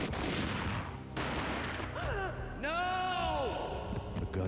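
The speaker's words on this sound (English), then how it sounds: "A gunshot boomed and she fell down in slow motion." Gunfire in the video game Max Payne: a dense, noisy burst of shots gives way to warped, drawn-out slow-motion tones that bend up and down, with a loud, continuous game soundtrack underneath.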